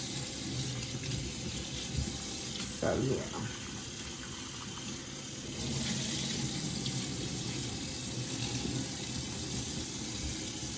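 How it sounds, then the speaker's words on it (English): Water runs steadily from a tap into a kitchen sink as beef tips are rinsed and swished by hand, a constant broadband hiss throughout with a brief spoken remark. "I got water in here, and I'm above the sink, and I'm just swishing it around in the water, draining it"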